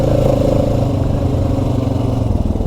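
A Honda Rancher 420 ATV engine runs loud and steady while shifting into third gear on an uphill trail ride, with a continuous mid-pitched drone and a slight pulsing throughout.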